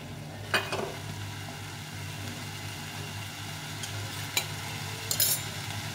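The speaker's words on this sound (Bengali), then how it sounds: "সব মশলাটাকে সুন্দর করে কষিয়ে নিতে হবে" A spice paste with ground cumin is sautéed in a pan for ghugni, giving a low, steady sizzle with a few sharp scrapes and clicks from a stirring utensil.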